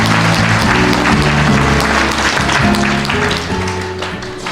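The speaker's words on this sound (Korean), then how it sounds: "큰 박수 한번 부탁드리겠습니다" An audience at a company year-end gala claps in a loud, sustained round that fills the hall, tapering slightly near the end with faint tonal music underneath.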